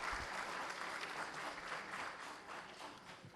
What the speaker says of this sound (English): next round of applause for Dr.